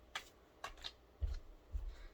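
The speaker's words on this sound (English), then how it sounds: "I'm really bad at shuffling, so like, don't mind me shuffling." Tarot cards being shuffled by hand, a few quiet, separate riffles and soft slaps spaced across a short, hushed stretch.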